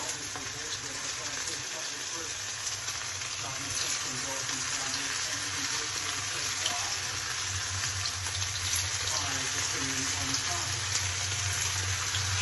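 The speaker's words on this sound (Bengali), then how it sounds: "তেলটা ভালো মতো গরম হয়েছে। এরপর আমি সাবধানে কোপ্তাগুলো দিব, যেন ভেঙে না যায়।" Steady, dense sizzling of chitol fish koftas frying in hot oil in a pan, loud and continuous throughout with a constant crackling hiss.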